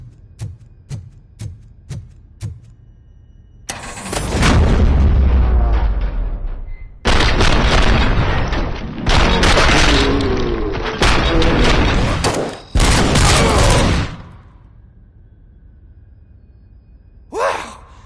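Gunfire and explosions in the RoboCop: Rogue City video game: a few sharp isolated shots, then long stretches of loud, dense rapid fire and blasts, before fading to quiet with one last burst.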